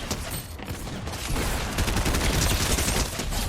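Shotgun fire in an online shooter game, dense overlapping blasts and gunfire crackling continuously at close range with no talk.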